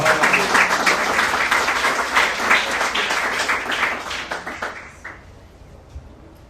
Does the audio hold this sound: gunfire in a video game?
no